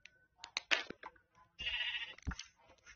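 Sheep in a block-building video game bleating in short separate calls, several quick bleats and one longer drawn-out bleat, fairly quiet, with no talk.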